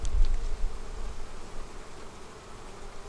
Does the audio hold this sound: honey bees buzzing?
yes